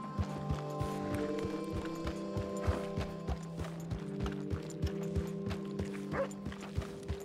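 Horse hooves clip-clop in Red Dead Redemption 2, a steady run of evenly spaced hoofbeats over a layer of humming in-game ambience, with no talking.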